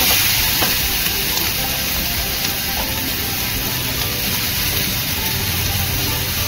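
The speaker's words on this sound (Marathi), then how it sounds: "कांदा चांगला लालसर परतून घेऊया आपण।" Chopped onion sautéing in a pan for Maharashtrian brinjal bharit gives a steady, close sizzle with a soft crackle throughout, and no voices.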